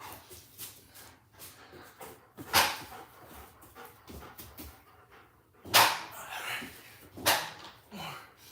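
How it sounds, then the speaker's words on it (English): A dog whimpers and yips now and then after a training session, with a few louder sharp bursts standing out over background noise while a person talks nearby. "You silly doggy."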